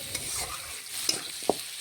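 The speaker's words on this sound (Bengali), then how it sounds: "এখন পেঁয়াজের সাথে নাড়াচাড়া করে আলুগুলো ভেজে নিচ্ছি।" Potatoes, onions and turmeric fry in a pan, giving a soft, steady sizzle with a few sharp scraping taps from stirring, close and fairly quiet with no talking.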